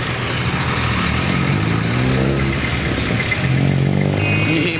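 Heavy road traffic with motorcycles and cars, a continuous loud engine drone and revving, close by and unbroken, with no clear speech.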